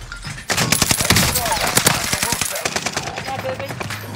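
Rapid automatic gunfire in the online shooter Caldera, loud bursts and chattering volleys one after another for several seconds, with a little voice mixed in.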